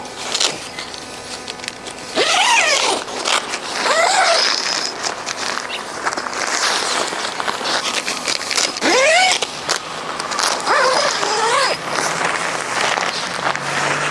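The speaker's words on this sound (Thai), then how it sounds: "เราก็รูดซิปได้เลยครับ" A zipper pulled along a LAGOONA KN camping tent door: several rising, rasping zip strokes close by, separated by short pauses, over light outdoor background noise.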